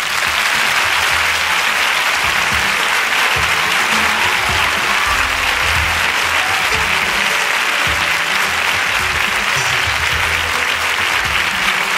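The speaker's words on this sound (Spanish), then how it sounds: "pido un fortísimo aplauso" Theatre audience at a televised flamenco music show giving strong, sustained applause, a dense and loud steady roar of clapping from many hands throughout.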